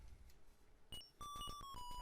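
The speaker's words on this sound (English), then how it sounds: "let's go ahead and answer the phone here" A phone rings in the Barbie Pet Rescue video game: a short electronic chime followed by a bright repeating melodic ringtone, fairly quiet and clear with no talk.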